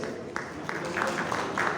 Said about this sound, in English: Let's give an applause to the shortlisted ones